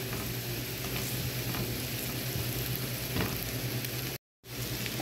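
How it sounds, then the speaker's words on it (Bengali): A spoonful of flour fries in a little oil in a pan, giving off a soft, steady sizzle with light stirring scrapes, close and continuous apart from a brief silent gap near the end. "এখন এখানে দিয়ে দিব এক টেবিল চামচ ময়দা এবং সামান্য একটু তেল। ময়দাটা একটু ভেজে নিব।"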